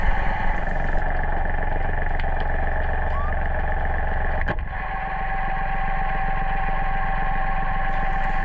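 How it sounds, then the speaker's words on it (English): A sailboat's inboard engine runs steadily at idle throughout, a close continuous drone with a brief dip midway, no talking over it. "let's do an engine check and use this clear water to see if there are no problems with the propeller"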